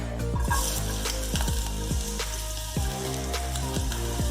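Chopped garlic frying in about a tablespoon of hot oil in a pan, a steady loud sizzle with repeated clicks and scrapes of stirring throughout.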